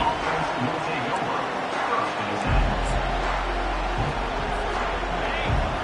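A stadium crowd roars in a continuous, dense wash during a Michigan versus Michigan State game in the NCAA 25 football video game, with broadcast commentary speaking over the noise throughout.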